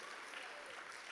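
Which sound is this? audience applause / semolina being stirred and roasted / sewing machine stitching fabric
audience applause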